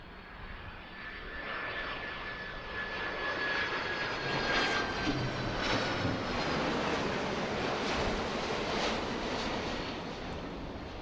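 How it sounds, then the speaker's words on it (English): A UPS cargo plane lands on runway 27 right at Philadelphia International Airport, heard from Fort Mifflin, its engine roar building into a broad, steady rumble that swells and lingers at a distance, with no voices over it. "There's UPS. Landing on runway 27 right."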